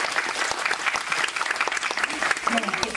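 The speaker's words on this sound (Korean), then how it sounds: "그리고 더 웨이브 클립 서비스에도 박수 부탁드립니다." Theatre audience applauding at a curtain-call stage greeting after the closing performance of a Korean musical, a dense steady wash of clapping throughout with a few voices and cheers rising near the end.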